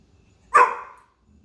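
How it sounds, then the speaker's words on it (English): A dog lets out a single sharp bark indoors, sudden and fairly close, in an otherwise quiet room. "Barking."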